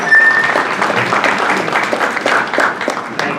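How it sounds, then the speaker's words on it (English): An audience at a community district meeting in a middle school applauds in a full, close burst of clapping with a faint crowd murmur and a little talk underneath. "Thank you for the applause."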